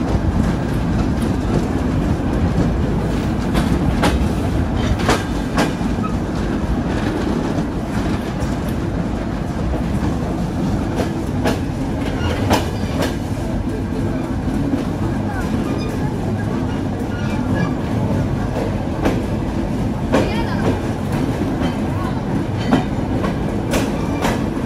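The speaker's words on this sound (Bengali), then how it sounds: "মহাবিলম্বের বোঝা নিয়ে আমাদের আন্তনগর রূপসী বাংলা এক্সপ্রেস এই মুহূর্তে এসে পৌঁছালো যশোর জংশনে" Ruposhi Bangla Express intercity train pulling into Jessore Junction, a steady loud rumble with rhythmic wheel clatter and occasional sharp clanks throughout, continuous at close range.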